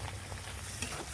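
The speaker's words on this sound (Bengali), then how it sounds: "এবার ভালো করে কষে নেব" Chicken and masala stir-fried in a pan for cashew chicken, a brief, soft, steady sizzle with faint stirring.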